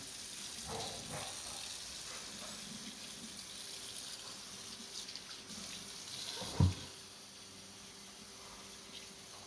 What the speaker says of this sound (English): And rinse it a little bit again.